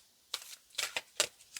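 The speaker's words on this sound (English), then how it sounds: "So I'm going to do a 3-card pull with this deck here. I'm going to shuffle a little bit here." A tarot card deck is shuffled in several quick, soft riffling bursts, close by and quiet, with no talking.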